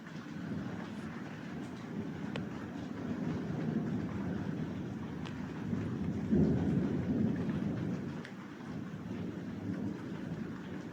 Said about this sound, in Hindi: बारिश आते हुए